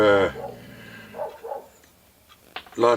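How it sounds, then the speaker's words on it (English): A dog barks outdoors in a yard, with a few loud, close yelping barks at the start and end and softer bursts between them. "The dog's going crazy in the yard."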